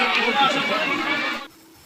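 Pilgrims crowd the Ramling temple in Kolhapur, a busy babble of many voices close by that cuts off abruptly near the end.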